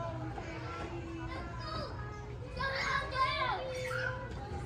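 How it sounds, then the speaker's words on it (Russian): Toddlers playing and running around on a Korean kindergarten playground, their high chattering voices and squeals rising and falling nearby throughout. "Вот такие малыши-карандаши носятся."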